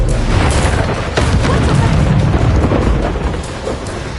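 A blasting curse exploding in the wizarding game Hogwarts Legacy: a loud, heavy boom with crackling bursts, rumbling on for several seconds before tapering off, close and dominant.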